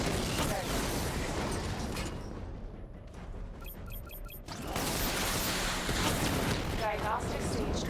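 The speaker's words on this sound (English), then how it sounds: "Charge the missile barrage to level 2 to destroy up to 4 targets at once." Dense, continuous rumble of missile barrage explosions from Batman: Arkham Knight, loud and sustained throughout, dipping briefly into a quieter gap with faint electronic beeps before the blasts resume.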